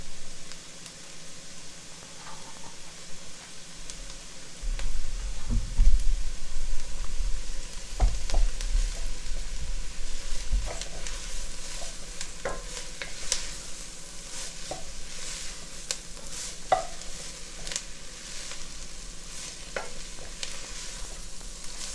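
Onions and crunchy vegetables cooking down in a pan over medium-high heat for a healthy gumbo, a steady close sizzle with intermittent stirring scrapes and soft clinks running throughout.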